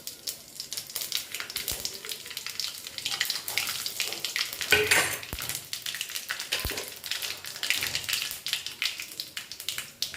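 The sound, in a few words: bay leaf, dried chillies and five spices frying in oil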